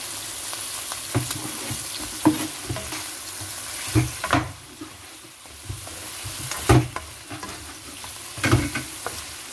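Chicken for tinola fries in hot oil, a continuous sizzle broken by repeated sharp crackles and pops of splattering oil along with occasional stirring, with no talking.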